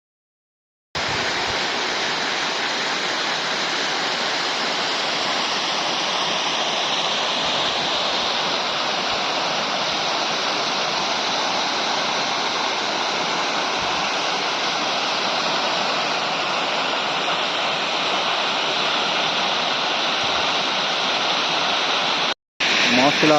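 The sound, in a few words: Masila waterfall in the Kolli Hills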